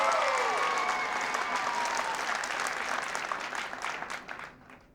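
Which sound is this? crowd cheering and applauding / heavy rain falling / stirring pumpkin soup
crowd cheering and applauding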